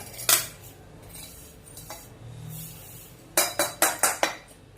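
Roasted barnyard millet being scooped out of a pan: a few scattered scrapes, then a quick run of five sharp metal-on-pan clinks of a spoon, close and fairly quiet with no voices.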